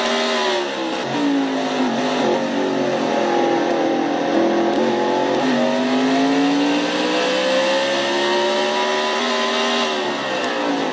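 Onboard view of a race car engine in a Castrol GTX Cup Series race, a loud, sustained, buzzing whine that rises and falls steadily through the gears, close and continuous with no talk.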